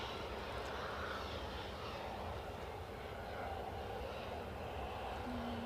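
Lufthansa airliner in classic livery arriving at Edinburgh Airport, a distant steady jet engine roar with broad rushing noise, heard alone without speech.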